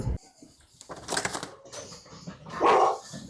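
Puppies bark and yip in short bursts, with a louder burst near the end, over faint voices and background noise.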